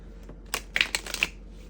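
Quick bursts of riffling tarot cards, a few crisp flutters and soft slaps close by, then quiet.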